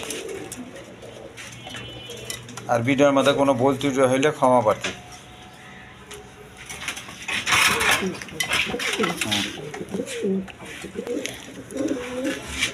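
Rajgolla pigeons coo at a breeder's loft in Bangladesh, soft throaty calls scattered through the clip beneath someone speaking, with occasional light metallic clinks nearby.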